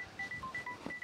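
Touch-tone dialing beeps for a phone call, a quick series of short, evenly spaced tones over faint room noise with no talk.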